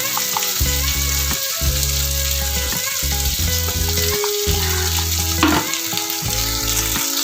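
Chicken spring roll filling fries in hot oil with a steady, close sizzle and crackle, with occasional stirring scrapes through it.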